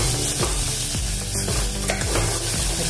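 Coarsely pounded spices go into frying onions for a spinach and pea dish, with a loud, dense sizzle and rhythmic scraping stirs about every half second, no voices.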